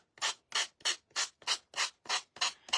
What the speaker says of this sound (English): we're going to go ahead and sand it off